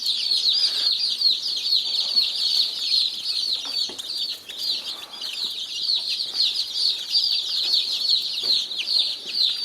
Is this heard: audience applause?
no